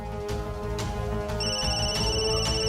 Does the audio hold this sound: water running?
no